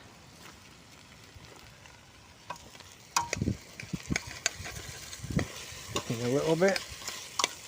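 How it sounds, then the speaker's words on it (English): Hobo-style chicken stew being stirred in a pot: a few scraping, sloshing strokes of a spoon over a low bubbling simmer, with brief speech partway through. "Let's give that a quick stir."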